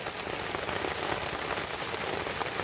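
Steady rain falls on a rocky Appalachian Trail section at the New Hampshire–Maine border, an even, dense patter of drops heard close up and alone, without talking.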